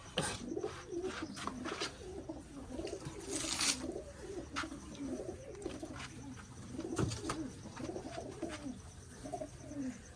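Pigeons perched on a rooftop stand coo in a low, rolling, continuous murmur, fairly quiet and steady, with occasional wing flutters and no voices.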